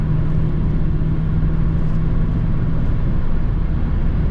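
A Dodge Challenger Scat Pack with stock exhaust and Shaker hood drones steadily while cruising on the road, a loud continuous low rumble with no talking.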